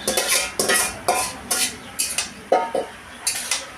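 Fried vegetables go into a pan of softened stalks for a Bengali pumpkin-stem chachchari. A spoon scrapes and clacks against the pan in a regular rhythm of about eight sharp strokes, close and clear with no talk.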